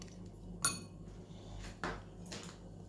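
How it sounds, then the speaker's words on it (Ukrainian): A spoon stirring ground pepper into a mixture for ribs in wine sauce, with a few light clinks and scrapes against the bowl, quiet and close, with no talk. "Перемішуємо"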